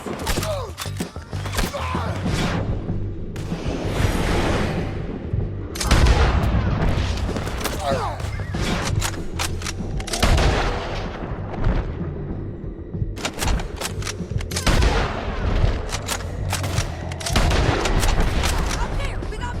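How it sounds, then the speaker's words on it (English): Red Dead Redemption 2 shootout: loud, close gunfire in repeated volleys and sharp single cracks throughout, with booming impacts and shouting voices mixed in. "I gotta shoot for both of us!"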